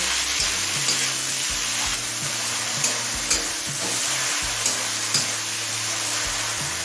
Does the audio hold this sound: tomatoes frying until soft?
yes